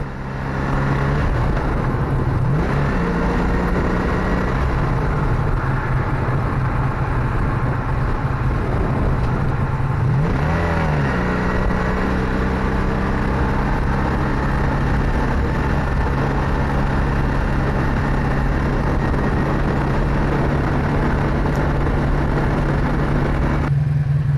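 A 1982 Honda VF750S motorcycle being ridden, with difficult upshifting and unable to get past third gear; a steady, loud engine drone runs throughout with wind noise and a couple of rising pitch sweeps as the revs change.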